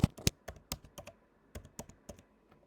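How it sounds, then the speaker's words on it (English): Someone types on a computer keyboard under Windows, about a dozen crisp, close keystrokes in quick uneven bursts, with two louder taps at the start and short pauses between groups. "type file history"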